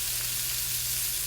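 Rinsed long-grain rice sautés in a little butter, giving off a steady, even sizzle and crackle close by.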